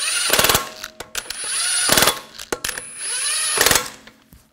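Lug bolts are snugged onto the front wheel of a 2004-2009 Audi A4 Quattro, with several loud bursts of rapid metallic ratcheting separated by short pauses and clinking, close by and with no talking.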